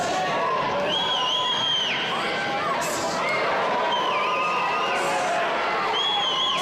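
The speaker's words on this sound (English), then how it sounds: "The crowd loving this one." Crowd at a Muay Thai state title fight cheering and shouting steadily throughout, with whoops and excited voices rising over a continuous roar of the audience.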